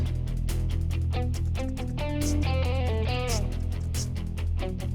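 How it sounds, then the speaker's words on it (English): A hi-hat beat with small accents ticking rapidly and steadily, heard in the full mix alongside heavy overdriven guitars and a brief melodic lead line, loud and dense throughout. "And then there's that hi-hat beat."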